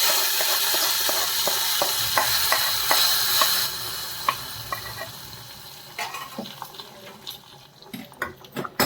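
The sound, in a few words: hot tempering with dried red chili added to rasam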